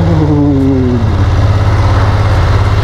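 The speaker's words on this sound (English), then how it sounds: "Pakinggan nyo yung exhaust." BMW F900R motorcycle exhaust idling up close, a loud steady low rumble with a brief falling blip of revs at the start, no talk over it.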